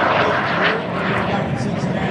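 A McDonnell-Douglas AV-8B+ Harrier II jet flies past at an air show, a loud, broad engine roar that swells and fades slightly, with an announcer talking over it.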